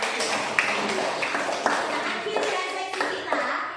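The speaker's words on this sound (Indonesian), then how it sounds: "Beri tepuk tangan." Children clap their hands together in a steady, dense burst of applause, with sharp individual claps standing out from the crowd.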